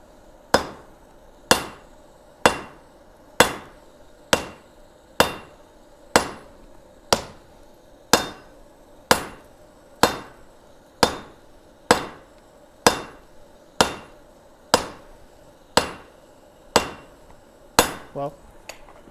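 A striker hammers hot metal at a forge, drawing out a nub, with about eighteen heavy, evenly spaced blows ringing out close by at roughly one per second.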